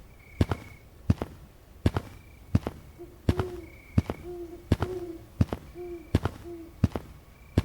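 Owl hooting outdoors at night, repeated soft hoots in a loose rhythm beneath a series of sharp, loud knocking pops spaced about every second.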